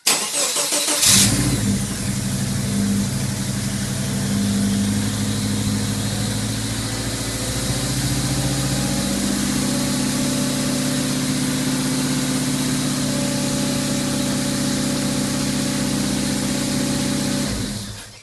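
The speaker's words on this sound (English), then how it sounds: "if we want to actually remote start the car, all we need to do is just plug the injectors back in and she'll fire straight up" A car engine fires up by remote start once its injectors are plugged back in, catching quickly and then settling into a steady, loud idle that runs on without pause, close by and with no one talking.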